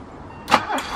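A BMW E30 engine, unstarted for five years, cranks and catches after a short quiet moment, with a loud burst followed by a second surge as it fires and begins running close by.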